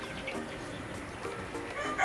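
A flock of Rhode Island Red chickens clucking steadily in the background, a busy murmur of soft overlapping calls with no clear pauses.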